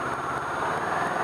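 A motorcycle engine idles nearby with a steady, low, continuous rumble and an even pulsing throb across the short stretch, with no talking.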